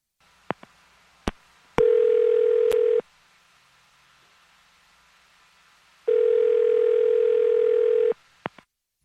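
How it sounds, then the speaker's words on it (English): A telephone handset gives two steady dial tone stretches of about a second and two seconds, separated by silence, with sharp clicks of the line and buttons before, between and after. "I'm going to dial this phone number right now."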